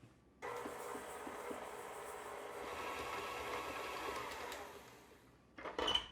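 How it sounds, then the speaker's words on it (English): A stand mixer with a paddle attachment creams chocolate chip cookie dough, its motor whirring steadily and evenly for about five seconds before winding down, followed by a brief clatter, close and without talk. "turn the mixer on with the paddle attachment and let that go until that mixture creams together"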